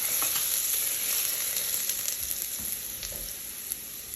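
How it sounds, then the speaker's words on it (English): Garlic sizzles in a preheated pan with a steady, close hiss of hot fat and scattered small crackles throughout, with no talking. "so we're gonna go ahead and add in our garlic first"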